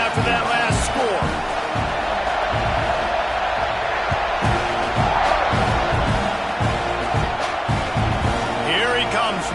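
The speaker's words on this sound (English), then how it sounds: "this crowd is buzzing after that last score" Crowd buzzing in a video game football stadium after a score, a dense continuous roar with scattered cheers and thuds, loud throughout, with a commentator talking over it.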